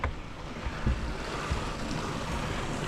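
Water pouring into a 450 liter tank in an off-grid water system, a steady broadband rush close by with brief splashy bumps, continuous throughout with no talking.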